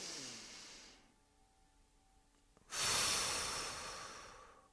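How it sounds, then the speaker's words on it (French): A slow, deep breath is drawn through the nose, then comes a pause and a loud, heavy, forceful exhale that gradually fades, close to the listener. "inspirer profondément par le nez. Retenir éventuellement la respiration 2 ou 3 secondes pour ceux qui le peuvent et expulser lourdement l'air."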